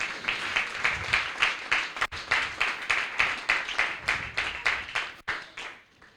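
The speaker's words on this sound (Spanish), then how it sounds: "¿Cuántos pueden dar un aplauso al Señor de alabanza?" A church congregation at a Pentecostal service claps in unison to praise the Lord, steady rhythmic beats about three per second, fairly close, with a couple of brief breaks before stopping.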